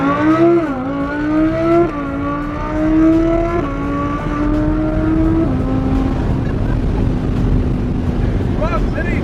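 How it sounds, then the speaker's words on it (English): Nissan GT-R launching from a standstill and accelerating hard, a loud rising engine note climbing through gears with brief shift dips, heard close up from inside the car with wind and road roar building, while people talk. "Just smash the brake and smash the gas."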